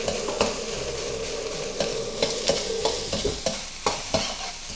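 Fried rice with pork cracklings being stir-fried in oil: a continuous sizzle broken by a rhythmic series of sharp scraping strokes from the spatula against the pan, close and clear, with no talking.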